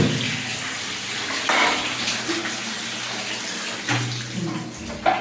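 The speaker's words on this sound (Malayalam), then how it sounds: "വെള്ളം നിർത്തു ദേവു" Water runs steadily from a tap, a continuous hiss with a few brief knocks and clatters, fairly close and alone.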